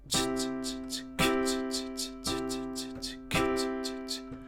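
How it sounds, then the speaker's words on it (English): A full piano chord struck repeatedly on the backbeat at a steady, even pulse, each one ringing out and decaying before the next, with softer touches in between. "So if we play the chord on the backbeat"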